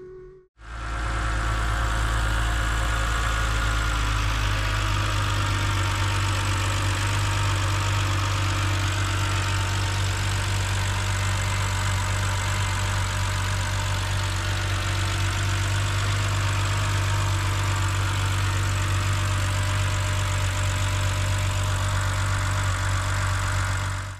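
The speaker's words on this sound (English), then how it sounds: "it appears that the whine is still there." A BMW X5 E70 engine idling with a persistent whine, a steady close drone with a constant high-pitched tone running over the low engine rumble throughout.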